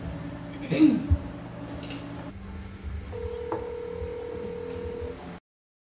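A few short telephone keypad tones beep, followed by a steady ringing tone on the line, with low background noise underneath.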